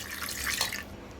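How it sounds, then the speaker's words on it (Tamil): Water poured over potatoes in a pot or pressure cooker for boiling, a brief close splashing pour that fades out after under a second. "அடுத்து பட்டேட்டோ வச்சக்கப்புறம் தண்ணி ஊற்றணும்."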